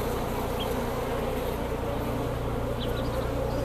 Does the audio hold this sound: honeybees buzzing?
yes